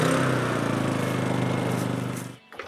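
A generator runs a concrete mixer, producing a steady, rumbling engine drone with a fast pulsing beat that holds close and loud before quickly dying away near the end.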